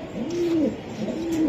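A Budapest racer pigeon gives two close, clear throaty coos while being held in the hand, each rising and falling call lasting about half a second.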